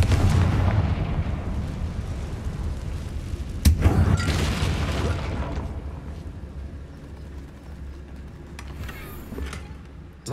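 In Hogwarts Legacy, the Confringo fire spell lands with a loud, deep boom followed by a rumbling blast that fades slowly, then smaller crackling bursts over a low battle ambience.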